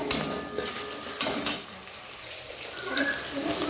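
Tomato masala with kasuri methi frying in a pan, a soft, low sizzle with a few light scrapes and clinks of a spoon against the pan, fairly quiet, with a voice faintly in the background.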